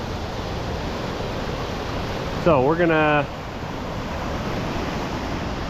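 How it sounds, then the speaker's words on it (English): A waterfall beside a lake along a forest trail gives a steady, broadband rushing roar throughout, with someone briefly speaking over it midway. "You can see the spray back there from the waterfall that's right here by the lake."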